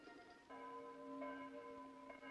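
Church bells ring out at a 1960 NSF scout jamboree camp in Brunlanes, calling people to a service. Sustained, overlapping bell tones hum steadily through the whole stretch, moderately distant, with fresh strikes layering in and no voices.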